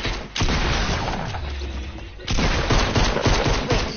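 Heavy automatic gunfire in a multiplayer video game, loud and close, two dense bursts split by a brief dip near the middle, with rumbling booms and crackle under the shots.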